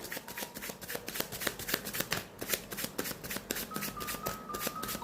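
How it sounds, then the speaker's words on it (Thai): A deck of tarot cards being shuffled up close, rapid riffling bursts and crisp card snaps repeating steadily over several seconds, no speech. "เดี๋ยวเรามาสับไพ่กองที่หนึ่งกันก่อนเลยนะคะ"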